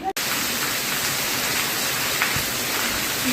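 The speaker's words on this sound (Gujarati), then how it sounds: "તમે જોઈ શકો છો કે કેવો વરસાદ આવી રહ્યો" A dense, steady wash of heavy rain hisses continuously, close and unbroken, with faint drips and patters within it.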